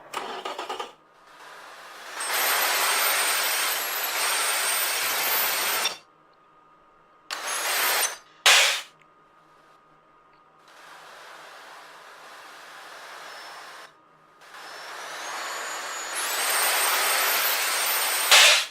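A turbocharged 1000-plus horsepower supercar engine in the Automation car-building game revs in loud, sustained bursts, each roaring for a few seconds before cutting to near silence, repeated several times.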